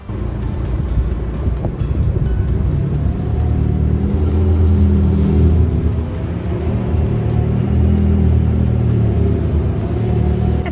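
A 2020 McLaren GT sports car gives off a steady, loud, low engine and road rumble with some wind noise, holding level throughout and with no voices.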